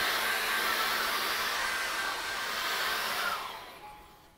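Hair dryer blowing on wet acrylic paint, a loud steady whooshing roar held for about three seconds before winding down and fading at the end, with no one speaking.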